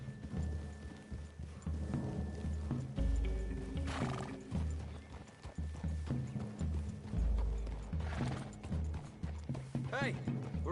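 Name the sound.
horses' hooves clip-clopping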